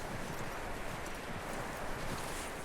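Horse hooves in the video game Red Dead Redemption 2 clip-clop on the ground in a quick, uneven rhythm, fairly close, with a faint rustle in the background.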